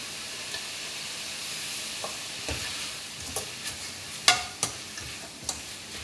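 Chili flakes and vegetables stirred in a hot pan give a steady background sizzle, with scattered scraping clicks and a few sharper taps from the utensil against the pan near the end.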